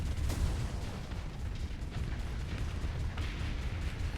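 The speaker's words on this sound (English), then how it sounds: "By the way, those pulse cannons are just great." Pulse cannons firing in the Starsector 0.95a space combat game, a dense, continuous stream of heavy booming bursts that stays loud and steady throughout.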